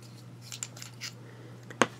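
A single sharp snip of scissors, trimming near a Namisu Nova fountain pen and a spare Bock No. 6 titanium nib, lands as one crisp near click after a few faint rustles over a low steady hum.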